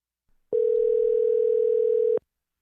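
A steady telephone dial tone plays alone for under two seconds as a call is placed, beginning and ending abruptly before silence.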